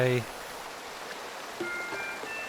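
A waterfall in the video game Kingdom Two Crowns gives a soft, steady rush of falling water, heard quietly and continuously after a brief musical chime at the start.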